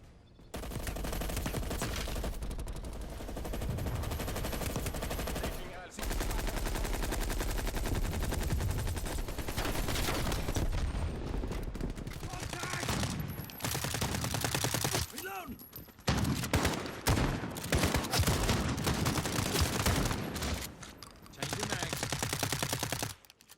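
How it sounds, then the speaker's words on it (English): Rapid automatic gunfire from Call of Duty Black Ops Cold War beta crackles in long sustained bursts separated by brief pauses, loud and up front, with a voice talking faintly underneath. "the gun sounds seem to have been boosted a bit from the alpha"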